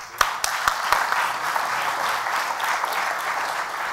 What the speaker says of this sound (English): Please welcome Dole Institute of Politics friend Dave Owen.